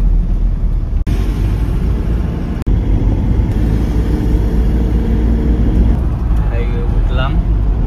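A car cruises along a highway with a steady, loud road and engine rumble that stays constant throughout, and a person talks over it.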